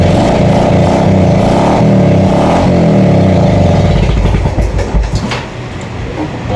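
A Yamaha FZ motorcycle that is hard to start runs loud and close with a heavy, throbbing engine drone that turns rougher and uneven before easing off.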